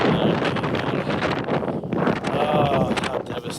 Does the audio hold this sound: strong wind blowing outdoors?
yes